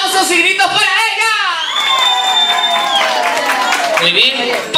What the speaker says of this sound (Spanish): ¡Aplausos y gritos para ella!